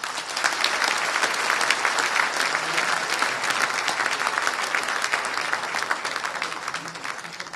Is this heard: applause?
yes